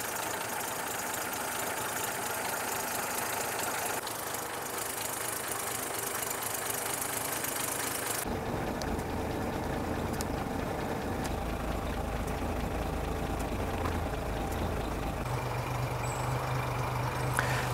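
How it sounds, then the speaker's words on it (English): A 1937 Rolls-Royce 25/30 HJ Mulliner saloon engine idles smoothly and steadily, a low continuous hum with a shift in tone partway through and no talking. "And believe it or not, that engine is running."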